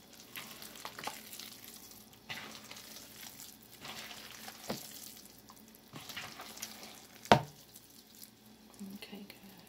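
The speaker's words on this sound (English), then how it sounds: "we want to make sure this egg get mixed up in here good" Egg is being worked by hand into a raw meatloaf mixture, a soft, wet squishing and stirring that carries on steadily with small clicks and one sharper knock.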